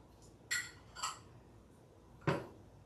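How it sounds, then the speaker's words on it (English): Rosemary and thyme stirred into braised short ribs in a pot, giving three soft, well-spaced clinks of a spoon against the vessel, fairly faint, with quiet room tone between them. "You're going to stir that in."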